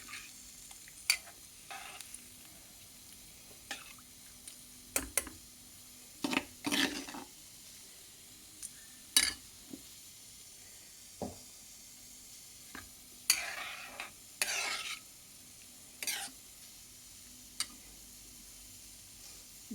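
Chana dal frying in a pan for a bottle gourd and tomato dalcha, a steady soft sizzle broken by intermittent scraping stirs and taps of the spoon, close and alone with no talk.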